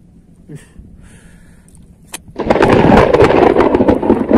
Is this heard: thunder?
yes